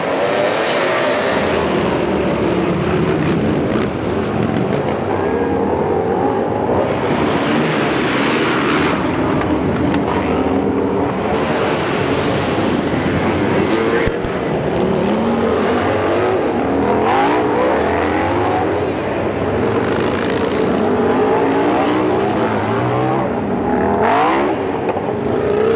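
Flat track motorcycles with combustion engines racing around an evening track, a continuous loud roar of several bikes whose engines rise and fall as they pass, with no voices.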